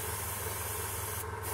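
A Harder & Steenbeck Ultra airbrush gives a continuous close hiss of spraying air, steady and even throughout the short stretch, heard alone without talk.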